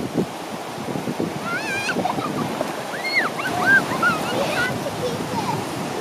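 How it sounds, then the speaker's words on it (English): Small low-tide ocean waves wash along a Sea of Cortez shore, a soft continuous surf with gusty wind rumble on the microphone and brief birdlike chirps and voices over it. "The small low tide waves."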